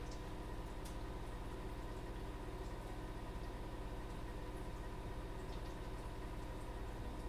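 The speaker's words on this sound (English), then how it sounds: "my washing machine's on a mad one." A washing machine runs in the background as a steady low hum and rumble, faint and continuous, with a couple of brief light clicks and no speech.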